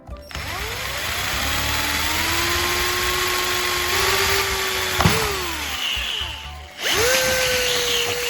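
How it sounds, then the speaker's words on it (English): Power drill whirring steadily as it bores a hole through the bottom of a plastic bottle, pitch sagging under load, briefly stopping and restarting near the end, close and clear with no talk. "Now, drill a hole in the center of the bottle's bottom."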